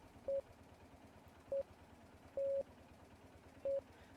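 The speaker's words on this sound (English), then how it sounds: "I didn't realise I'd actually be sat here doing fucking Morse code." Steady electronic Morse code beeps keyed in a video game: four clean single-pitch tones, three short and one longer, spaced apart over a quiet background.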